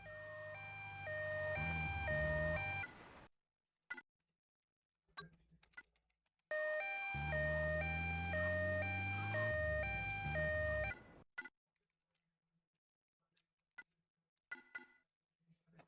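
In GTA Vice City Stories, an ambulance siren wails in a repeating two-tone pattern in two long bursts with an engine rumble beneath, separated by short game sound effects and quiet gaps.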